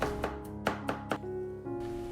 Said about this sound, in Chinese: 剁成蒜末